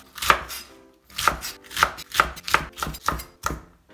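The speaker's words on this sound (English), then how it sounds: "this leaf part of cabbage, I'm going to just kind of cut into like the same kind of strip as the rest of the ingredients" A knife chops cabbage leaves into strips on a board for yakisoba, with about eight crisp, evenly spaced thuds close by and no talking.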